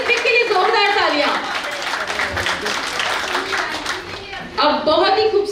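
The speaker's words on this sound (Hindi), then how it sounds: "जोरदार तालियां।" An audience at a 25th wedding anniversary celebration claps for a young boy. The lively, fairly close clapping runs under a voice talking and singing over a speaker system, swelling and fading in short bursts.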